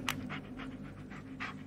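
A dog in the horror video game Blair Witch pants steadily, with about six quick, breathy huffs in an even rhythm close by, over a low ambient drone.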